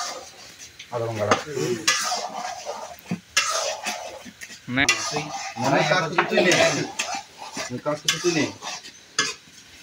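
Potatoes fry in a pan at an outdoor village picnic, with a soft sizzle under repeated metal scraping and clinking as a utensil stirs them, while a person talks over the cooking.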